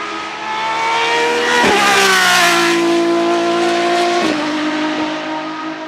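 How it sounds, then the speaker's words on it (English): A Lamborghini Essenza SCV12 race car's V12 engine revs hard and loud up close. The pitch climbs steadily, with two brief shift breaks before it rises again. "The guttural scream of the SC-V12 is just absolutely insane."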